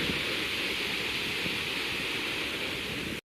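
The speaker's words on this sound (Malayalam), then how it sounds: "നാല് ഷട്ടറിൽ നിന്ന് ഒരു അര ഇഞ്ച് പൊക്കിയപ്പോൾ വരുന്ന വെള്ളമാണ് ഈ കാണുന്നതൊക്കെ" Water rushing from four opened shutters of Peechi Dam in Thrissur, a steady, loud, continuous roar of turbulent flow with no voices, cutting off abruptly at the very end.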